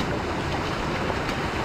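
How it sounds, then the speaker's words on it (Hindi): Waterfall on the Karoli Valley trek, a steady rushing wash of falling water heard briefly and fairly loud with no talk. "तो ये है पहला वाटरफॉल।"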